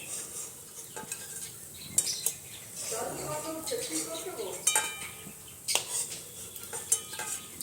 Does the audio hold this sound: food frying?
yes